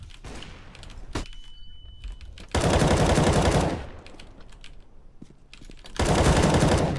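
Video game gunfire in loud sustained bursts, two long automatic volleys separated by quieter stretches with scattered single shots.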